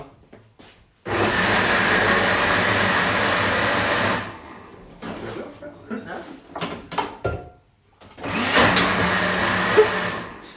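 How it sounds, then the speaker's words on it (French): A kitchen blender runs loudly in two bursts, a long steady whirring drone followed after a pause with clattering by a second shorter run, with no talking over it. "si le mixeur commence à faire des bruits bizarres, c'est pas normal"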